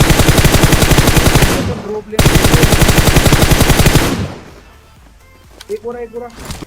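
Two long bursts of rapid automatic fire from a PUBG weapon rattle loudly, then cut off; a voice speaks afterward.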